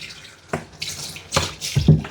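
Water splashes and trickles as a dog's fur is rinsed in front of the ear during skunk odor removal, a few uneven close splashes and drips with no talking.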